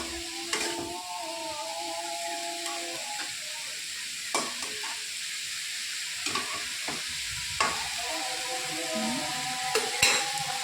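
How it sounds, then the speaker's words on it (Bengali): Nothe greens (shak) with turmeric and salt being stirred in a frying pan for chorchori, a steady sizzle under repeated scraping strokes of a spatula, close and fairly loud, with no talk. "লবণ দিয়ে আবার ঢাকা দিয়ে দেবো নাড়াচাড়া করে"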